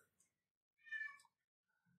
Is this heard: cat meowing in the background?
yes